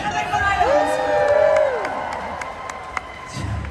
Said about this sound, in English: You guys, stop clapping, stop cheering.